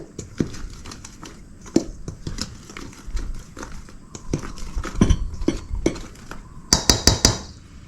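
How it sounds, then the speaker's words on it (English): Cinnamon being stirred into protein pancake batter, a run of light clinks and taps of a utensil against a bowl in an uneven rhythm, close and moderately loud, no talk. "I'm gonna stir that up a little bit, just to make sure that the cinnamon really gets mixed in."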